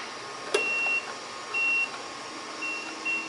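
Electronic beeping from a 3D printer signalling its filament sensor is out of plastic, short high-pitched tones repeating at intervals after a brief click, over a steady background hum.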